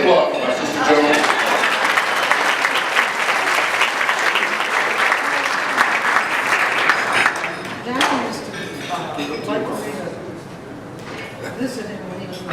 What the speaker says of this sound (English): Please applaud for my sister Joan.